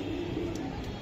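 A pigeon at a pigeon seller's gives a brief, soft, low coo, faint over a quiet background hum.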